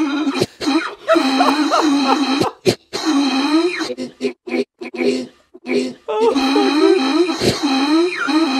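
A man coughs and clears his throat repeatedly, in harsh bursts broken by short gaps, with strained voiced groans mixed in, loud and close.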